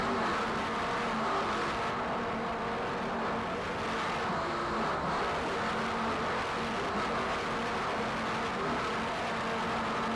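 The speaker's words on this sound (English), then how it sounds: "a 40-foot Jaguar, powered by two 850 horsepower Mercury inboards" A 40-foot Jaguar racing powerboat with twin 850-horsepower Mercury inboard engines gives a steady, dense roar at a distance through a race, holding a fairly even level with no voices.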